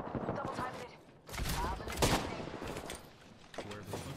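Rapid gunfire bursts and automatic weapon fire from an Apex Legends match crackle through the clip, with louder volleys mid-way, while a player talks over the shooting.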